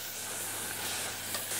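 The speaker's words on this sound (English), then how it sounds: "I add my wine. You want that sizzling happen." Wine poured into a hot pan with toasted rice sizzles and hisses steadily, a close, continuous frying sound with no talking.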